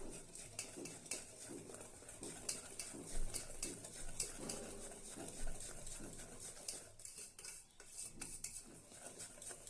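A spoon scrapes and clinks around a bowl as cake batter made with maida flour is mixed, an irregular run of close clattering and stirring strokes with no one speaking.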